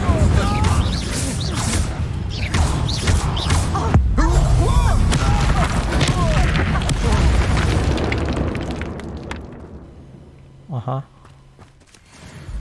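Hogwarts Legacy spell combat: a booming fire blast with whooshing bursts and pops layered over dense battle noise, loud and continuous for several seconds before fading to near quiet with a last small thud.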